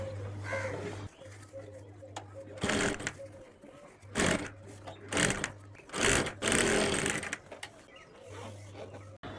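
Sewing machine stitching an invisible zip into a kurti, running in several loud bursts of a few seconds each with a steady hum between them.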